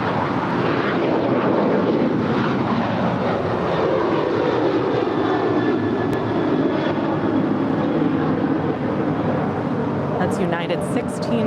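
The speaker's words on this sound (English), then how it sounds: "That's United 1608 off to Cancun, a 7-year-old 737-900ER" A seven-year-old United Boeing 737-900ER takes off from runway 25 Right at LAX, bound for Cancun. A sustained, loud jet roar fills the whole stretch, its tone sliding slowly lower as the aircraft climbs away.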